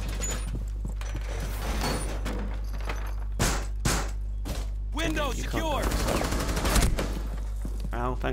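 Bursts of automatic gunfire and single shots in Rainbow Six Siege online play, loud and repeated across the stretch, with a steady low game hum underneath.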